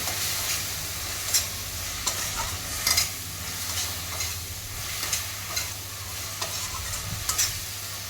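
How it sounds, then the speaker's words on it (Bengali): Masala with ginger paste frying in a pan for a Bengali rohu fish curry with elephant foot yam, stirred steadily: a continuous close sizzle with soft scraping strokes and occasional clinks of the spatula, no talking. "আদা বাটাটা দিয়েও কিন্তু খানিকক্ষণ আমি মশলাটাকে কষিয়ে নেবো"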